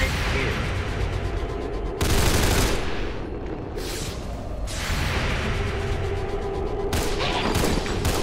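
Rapid rifle reaction fire bursts out in XCOM 2, a dense volley of gunshots with sharper cracks and booms breaking through, loud and continuous over several seconds with a faint voice underneath.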